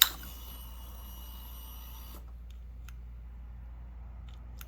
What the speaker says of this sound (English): it's your alarm system.